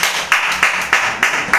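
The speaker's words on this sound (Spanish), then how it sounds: "Denle un aplauso a Dios por eso" A church congregation claps in praise during a sermon, a brief burst of steady, rhythmic hand claps close and loud, with no talking.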